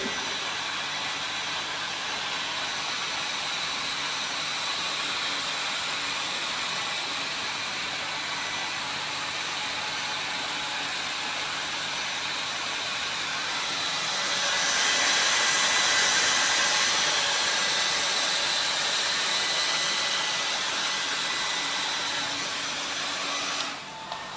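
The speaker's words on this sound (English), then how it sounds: "So after washing, you have to dry the specimen using the dryer." A hair-dryer-style blower dries a grey cast iron specimen in a lab, whooshing steadily for a long stretch, growing louder and airier partway through before cutting off at the end.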